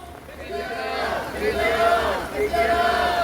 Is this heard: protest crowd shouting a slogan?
yes